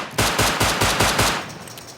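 A revolver in the video game Rust Console Edition fires six quick evenly spaced shots, each a loud sharp crack with a short tail, before the sound fades out.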